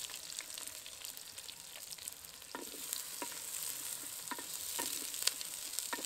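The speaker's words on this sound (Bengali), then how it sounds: "পেঁয়াজটা একদম বাদামি রং ধরা পর্যন্ত এখন ভেজে নেব।" Five medium onions, finely chopped, fry in a pan of hot oil for a duck curry, making a soft continuous sizzle broken by sharp, irregular clicks and scrapes of a spatula stirring.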